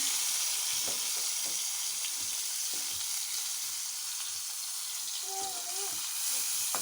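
Dried shrimp frying in a little oil in a pan, a steady close sizzle and crackle hissing continuously with no talking.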